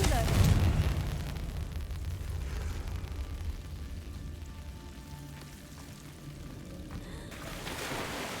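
A Confringo blasting spell goes off in Hogwarts Legacy with a low, rumbling explosive burst at the start that fades into a long crackling, rain-like tail.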